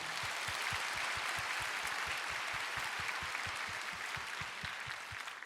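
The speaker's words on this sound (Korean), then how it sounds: "김민영 형제가 하나님 안에서 온전한 치유와 회복을 경험할 수 있도록 박수로 위로하며 축복하겠습니다" A church congregation at a Korean prayer gathering applauds together, a dense, steady wash of clapping that holds at an even level throughout, with a faint rhythmic pulse underneath.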